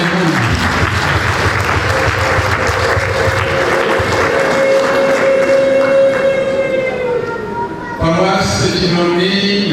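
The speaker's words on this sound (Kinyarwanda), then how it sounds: "Tubahaye impundu." Congregation at a Catholic priestly ordination Mass in a Ruhengeri cathedral parish erupts in loud, sustained applause with a long high ululation rising above it, continuing densely for several seconds before a brief dip and a fresh burst.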